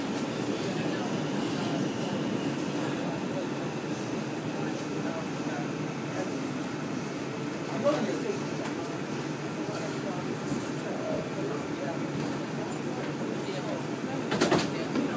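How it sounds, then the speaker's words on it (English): A Brooklyn-bound 4 express train on the New York subway rumbles steadily in a constant loud roar, with faint wheel squeals and a sharp screech near the end. "This is a Brooklyn bound 4 express train."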